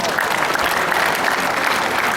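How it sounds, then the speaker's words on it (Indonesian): Loud, steady applause from a large crowd at a Pemuda Pancasila anniversary gathering in North Sumatra, a dense unbroken roar of clapping filling the whole stretch. "Hadirin, beri tepuk tangan yang meriah buat kita semua"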